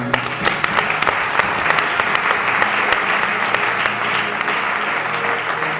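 A church congregation claps loudly and steadily in praise, dense applause filling the whole span with a constant crackle of many hands.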